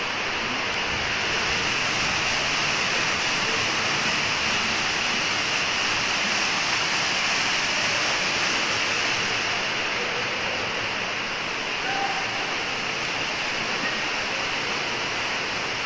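Meiringspoort waterfall in a mountain gorge roars as a steady, loud broadband rush of falling water, unbroken throughout with no voices.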